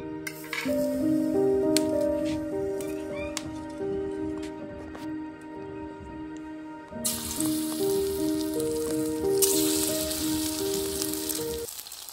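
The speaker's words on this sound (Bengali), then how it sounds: "আমি এই চিকেনগুলো ভালো করে ভেজে নেব।" Marinated chicken pieces sizzle in a pan for green chicken curry, steady frying hiss under background music, growing louder and brighter partway through as the pieces are stirred.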